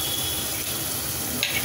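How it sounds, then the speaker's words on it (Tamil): Onion, ginger and garlic sauté together in a pan for egg biryani, a short steady sizzle with a soft scrape near the end. "வெங்காயத்தோடு இஞ்சி பூண்டு எல்லாம் நல்லா வதக்கிக்கலாம்"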